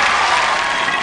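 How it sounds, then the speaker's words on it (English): An audience claps in a steady, dense wash of applause for about a second, loud and close, with no voices standing out. "How about a round of applause for that?"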